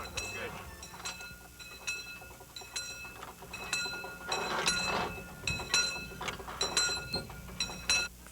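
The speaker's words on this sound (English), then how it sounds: "The train still leaves every hour for nearby St. Doberan, just as it has for many, many years." Old train at a historic station on the Baltic coast near St. Doberan, with rattling, clinking railcar sounds and metallic squeals over a low rumble, moderately loud and irregular throughout.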